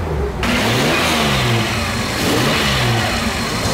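An old-school Japanese classic car engine fitted with a new carburetor revs hard and loud close by, a dense, steady roar with rising and falling pitch that fills the whole stretch.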